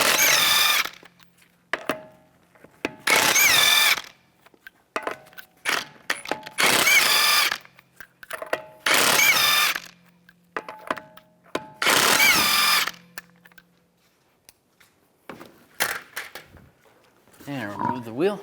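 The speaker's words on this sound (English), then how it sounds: "Take the lug nuts off." Power tool bursts spinning off the 19mm lug nuts on a 2011-2015 Chevrolet Cruze wheel, several loud whirring runs of a second or two each with quiet gaps between, close by.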